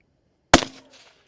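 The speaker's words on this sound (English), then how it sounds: "Here's our .22 ARC against our concrete barrier. Firing." A single sharp report from a suppressed Ruger American rifle firing .22 ARC at a concrete barrier, a loud close crack with a brief decaying ring, preceded by silence.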